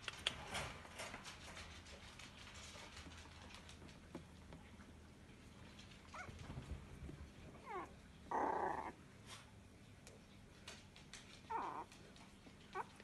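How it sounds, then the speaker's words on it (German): Four-week-old puppy growling softly, low and intermittent with a few louder bursts near the end, alongside faint rustling and shuffling; no voices. "Dann liegt er auf seinen dicken Bauch und knurrt durch die Gegend."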